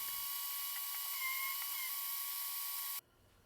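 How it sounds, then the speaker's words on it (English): A power sander runs continuously on wooden seat slats for a porch holiday decoration, a loud, steady high whine with a faint wavering tone, then cuts off abruptly near the end, leaving quiet room noise. "Then I go back to sanding and finish up with those."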